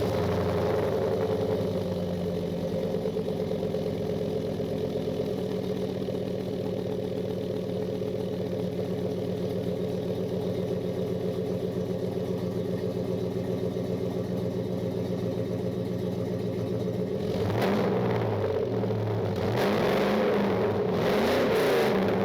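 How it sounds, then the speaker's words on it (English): Chevrolet Suburban truck with a catless 2.5-inch exhaust, idling steadily with a deep low rumble for most of the run, then revved a few times near the end, loud and close, with no talking. "I absolutely hate the way this truck sounds, so we'll go ahead and give you a little sound clip here of what we're working with."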